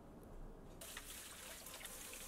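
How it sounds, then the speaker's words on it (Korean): Chamnamul greens rinsed under a running kitchen tap, a steady close splashing gush that starts abruptly partway in and continues alone. "참나물을 흐르는 물에 깨끗이 씻어주시고"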